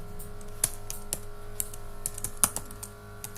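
Quiet keystrokes on a computer keyboard while remote-support software is set up, a steady run of light, irregular clicks with a few sharper taps, close by and alone with no talk.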